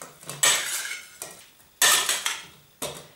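Red mullet in a dish being mixed with spices and salt for oven baking, heard as three separate bursts of clinking and scraping against the dish, spaced about a second apart, with no voices.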